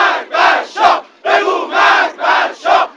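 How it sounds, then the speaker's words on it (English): Large crowd of demonstrators in 1979 Iran chanting anti-Shah slogans in unison, loud rhythmic bursts of massed voices repeating about every half second with brief gaps. "The crowd shouted death to the Shah."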